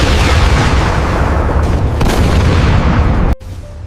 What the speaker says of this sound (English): Reactive tiles detonate outward, disrupting HEET jets.